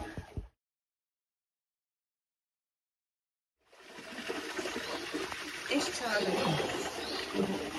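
Water gushes steadily from a pipe being filled to push out trapped air, a rushing, splashing flow that starts abruptly after a few seconds of silence and stays loud to the end.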